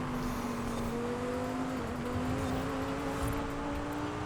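A race car engine drones steadily in Forza Horizon 5 while overtaking on a road course, its pitch climbing slowly as it accelerates, moderately loud and continuous with no talk.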